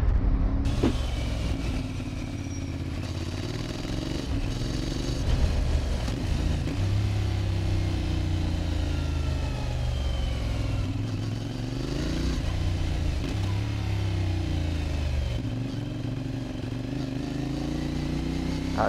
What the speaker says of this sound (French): Ah, le son de cet échappement,